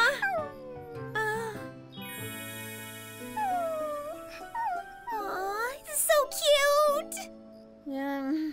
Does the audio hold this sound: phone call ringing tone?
no